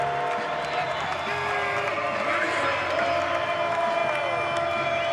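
Crowd noise inside an indoor arena football venue on a fourth-down play, a continuous murmur and rising cheer from the stands, heard under a voice speaking throughout.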